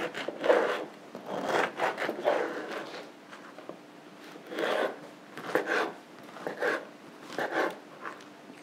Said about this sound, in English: And I'm just going to slice it and dice it into cubes.